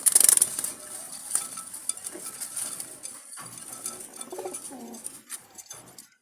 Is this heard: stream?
no